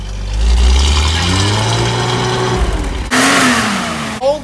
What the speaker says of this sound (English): Old gas is still burning because they had gas in there for 3 years sitting. So we're getting some backfire.